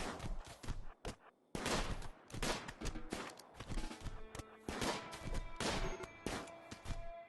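Bursts of gunfire in the video game Rimworld, rapid cracks and volleys in uneven clusters with metallic clangs between them, fairly quiet overall.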